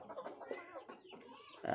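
A fighting rooster clucking in a burst of throaty, overlapping calls amid background noise, fairly faint.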